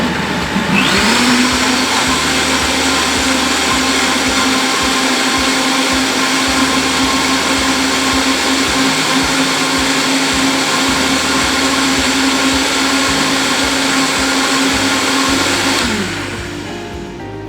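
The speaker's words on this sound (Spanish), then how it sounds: "Y lo vamos a licuar. Siempre con la velocidad media para empezar" A blender runs at medium speed, whirring loud and steady as it purées a chicken marinade for Peruvian rotisserie chicken, then winds down at the end.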